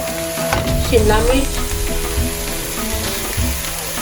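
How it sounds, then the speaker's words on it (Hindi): Yellow and green bell peppers frying over a high flame in a pan, a steady loud sizzle with stirring scrapes throughout, no voices. "और इसे 1 सेकंड के लिए हाई फ्लेम में इसके साथ टोस्ट करेंगे।"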